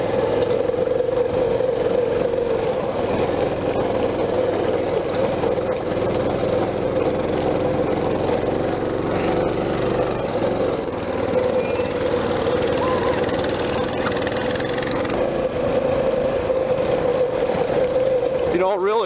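A small mini bike engine running steadily over desert dirt, with a loud, constant buzzing drone and rattling that persists for the whole ride.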